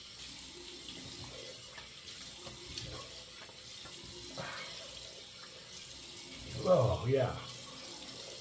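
A bathroom tap runs steadily at a sink while someone rinses their face, with faint splashes near the end and a brief spoken remark.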